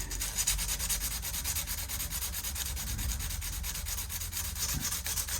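Steady, continuous sanding of guitar fret ends: a dry, scratchy rasp of abrasive rubbing on metal frets, close and even in loudness, with no talking.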